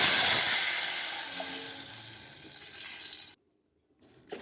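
Water poured into a hot pot of tempering with curry leaves, dried red chillies and turmeric for pikka charu gives a loud rushing hiss that fades over about three seconds and then cuts to silence, with a faint clatter near the end.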